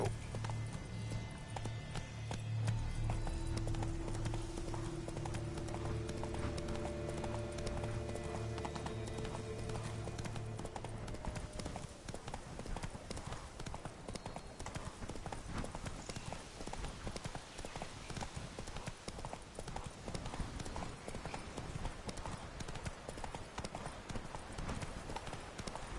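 Roach, a horse in The Witcher 3, gallops with rapid rhythmic hoofbeats for several seconds, a whinny rising over them, before the clatter gives way to quieter game ambience with faint voices.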